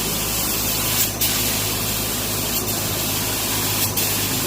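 A spray gun sprays guide coat over body filler on a car body, hissing continuously at close range, a loud steady spray with brief dips in the flow.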